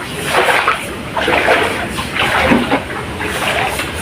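Floodwater sloshes and splashes in repeated surges close by, rising and falling in loose waves, with no clear talking.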